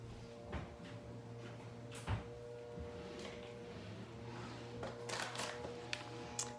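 A household drawer slides open and shut at close range, a few short knocks and sliding bumps over a steady low hum, with no talking.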